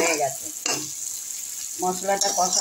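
Fried potatoes added to cooked spice paste sizzle in a pan of boal fish curry with bori, heard as a close, brief frying hiss punctuated by short stirring bursts, with a voice briefly audible.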